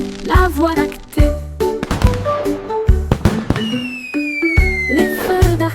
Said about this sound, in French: Les feux d'artifice de Jack ont illuminé la voie lactée.